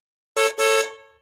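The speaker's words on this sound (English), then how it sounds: "Bermudians, the way we honk our horn" Two quick car horn honks in Bermuda, loud and close, the first short and the second longer and trailing off, with no other sound around them.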